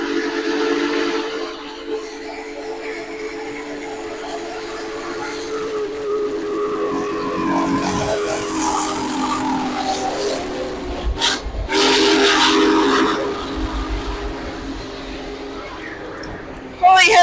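A loud whistle from the Big Boy steam locomotive blasts in long sustained bursts over the rumble of the train, with people's voices and excited chatter mixed in.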